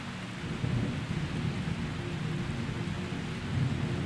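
Steady rainfall during a thunderstorm, with a continuous hiss of rain and low rolling thunder rumbling through.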